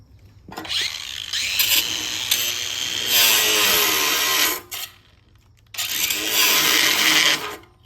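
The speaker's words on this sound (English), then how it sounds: "we're gonna cut this pipe off" An angle grinder cutting through the exhaust pipe of a 1986 7.3 IDI diesel, a loud, steady, whining grind held for several seconds, a brief drop, then a second sustained cutting burst.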